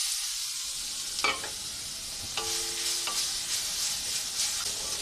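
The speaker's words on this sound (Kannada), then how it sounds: "ಈ ಬೀಟ್ರೂಟನ್ನು ನಾವು ತುಪ್ಪದಲ್ಲಿ ಚೆನ್ನಾಗಿ ಫ್ರೈ ಮಾಡ್ಕೊತಾ ಇದ್ದೀವಿ." Grated beetroot sizzles steadily in hot ghee in a pan, with a few scraping clinks of a spoon stirring it, close up and without speech.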